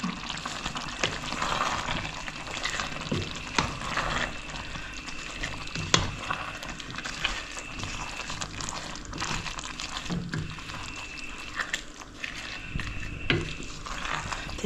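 Vegetables with mint, coriander, thyme and curry leaves are stirred in a pot for vegetable biryani, giving a steady close sizzle broken by occasional scraping stirs and light clinks.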